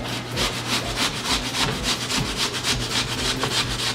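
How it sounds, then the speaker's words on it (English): An apple being grated by hand on a kitchen grater for a bibimbap dish, heard as a steady run of rapid, close scraping strokes in an even back-and-forth rhythm with no talking. "we're going to grate apple."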